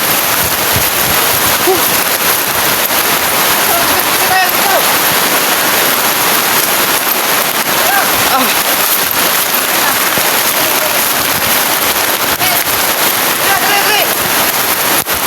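Torrential rain falls hard and continuously outdoors, a loud, even roar of drops drumming on surfaces with faint scattered spatter detail over the steady wash.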